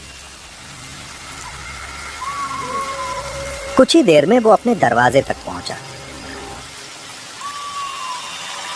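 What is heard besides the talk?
rain falling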